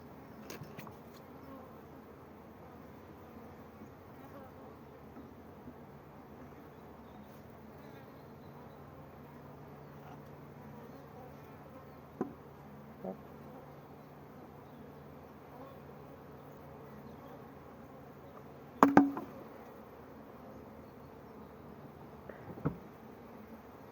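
Honeybees hum around an open hive during a gentle inspection: a steady, low, continuous buzz that fills the whole stretch, broken by a few brief knocks and handling noises near the end.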